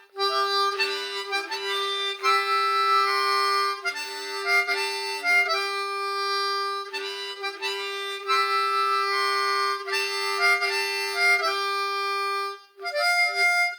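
Harmonica playing a drone-based Irish-flavored melody featuring a lowered seventh (F), a constant low drone note under short phrased bursts of higher notes with brief pauses between phrases, clear and solo.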